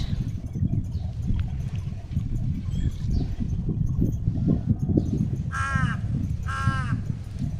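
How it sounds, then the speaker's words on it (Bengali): A crow caws outdoors on a windy morning. Two loud, harsh caws ring out close together near the end over a steady rumble of wind. "কাকটা কীভাবে সুন্দর ডাকতেছে।"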